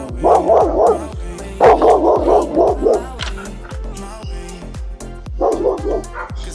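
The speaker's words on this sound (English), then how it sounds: "Dogs after me." Dogs bark repeatedly in short bursts close by on a countryside walking path in Lincolnshire, several rounds of barking with pauses between them.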